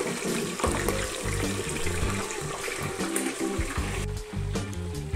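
Pork pieces frying in hot lard in a pot for carnitas, a steady dense sizzle and bubbling crackle that runs loud and continuous throughout, with no talking.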